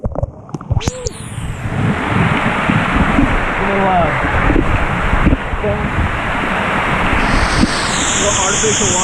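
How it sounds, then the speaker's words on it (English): Water from an artificial waterfall at a water park pours and splashes in a continuous, loud, broadband rush, close by and steady, with a few faint voices and whistles mixed in. "Artificial waterfall."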